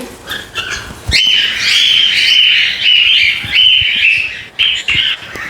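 Cockatiels in an aviary, including pearl and dominant yellow birds, calling with loud, sustained shrill squawks in several long bursts, close to the microphone, with faint knocks and clatter between calls.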